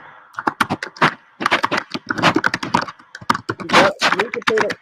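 Rapid, uneven clicking and clacking of keys on a computer keyboard, close and busy, with brief pauses between bursts of typing.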